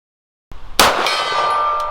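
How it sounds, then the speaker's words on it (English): Pistol shot striking a steel gong target at about 50 yards on an outdoor range, fired from a Kimber KDS9c 9mm handgun; a sharp impact followed by a single bright metallic clang that rings on and slowly decays. "Got the gong"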